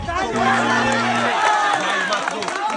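A village crowd claps and cheers for a contestant who has fallen into water during an outdoor drum-balancing game, a loud, steady wash of clapping and shouting with voices calling out over it.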